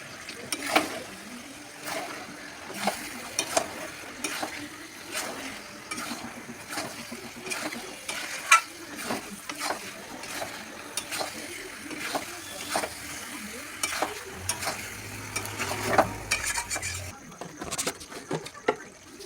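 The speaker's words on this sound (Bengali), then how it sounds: "এবারে যে মাংসটা ফ্রাই করে রেখেছি সেটা দিয়ে দেবো।" Pre-fried meat goes into a cooked-down spiced masala in a pan, sizzling under frequent scraping and tapping of a spoon as it is stirred, with a fuller burst of frying toward the end.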